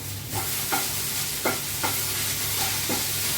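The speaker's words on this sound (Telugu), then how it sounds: "కాబట్టి కొంచెం ఫ్రై అయ్యాక ఇప్పుడు వేసుకుంటే బెండకాయ చక్కగా ఫ్రై అయిపోద్ది" Okra frying with onions in a pan, a loud continuous sizzle close by, broken by a series of regular scraping stirs about every half second, no talk.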